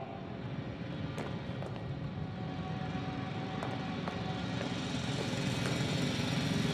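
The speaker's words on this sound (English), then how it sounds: "It's a drill!" A loud, steady mechanical drilling roar from a drill in the video game The Invincible drones on without pause, with a few faint clicks and knocks over the grinding hum.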